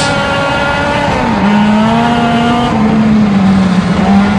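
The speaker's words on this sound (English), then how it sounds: "Coming off turn 4, Timothy Witherington has the start on that inside front row with the 57 car. And here we go, green flag waves" Race cars roar off at the green flag on a speedway oval, engines loud and close with rising, sustained revs blending together alone without talk.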